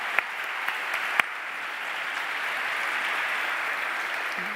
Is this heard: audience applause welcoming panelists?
yes